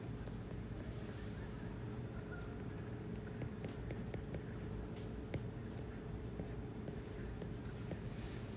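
Chalk or marker taps and scratches on a board during an engineering math lecture, a string of short light strokes over a steady room hum, with no talk.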